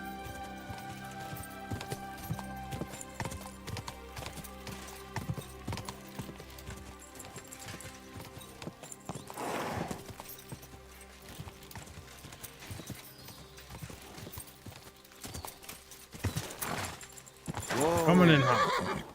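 Rapid hoofbeats of galloping horses in the video game Kingdom Come: Deliverance 2 clatter steadily, with a horse whinnying loudly near the end over a busy background.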